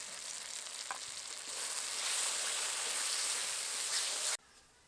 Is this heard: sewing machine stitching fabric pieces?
no